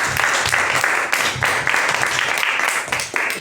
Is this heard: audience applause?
yes